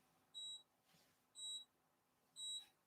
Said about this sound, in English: That's an interesting beep.